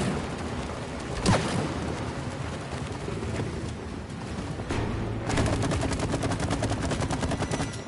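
Gunfire from the co-op video game It Takes Two: a few sharp shots stand out, one strong crack near the start and more later, over a dense, noisy game soundscape with no talking.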